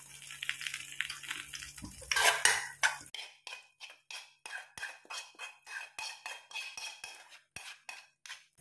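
Spiced masala is added to a pan with fried egg pieces and spread around. A spoon scrapes and clinks against the metal pan in a quick rhythm, up close and with no talking.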